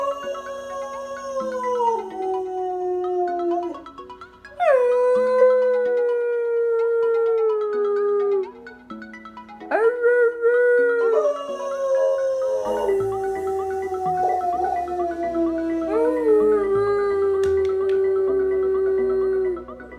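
A dog howls in long, drawn-out, pitched wails, several in a row, each rising and falling. The howls are close and fairly loud, and no one talks.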